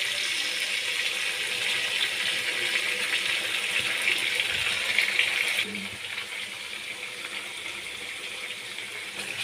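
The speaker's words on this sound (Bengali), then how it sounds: "এখানে আমি 1 বাটি জল দিয়ে দিচ্ছি।" A bowl of water poured into a pan of hilsa fish curry, a steady rushing gush that runs for several seconds and then eases to a quieter simmer.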